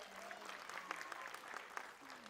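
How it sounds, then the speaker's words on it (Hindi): Audience applause at an annual dance academy show, a dense steady wash of clapping lasting the whole stretch, with a voice and faint tonal sounds riding over it. "जोरदार टाळ्या।"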